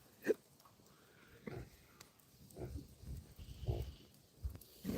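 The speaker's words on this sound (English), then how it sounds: "Oh, I hear Miss Piggy." A pig grunts repeatedly at a home backyard where a pool is being filled, a series of short low snorts spaced irregularly and heard fairly close.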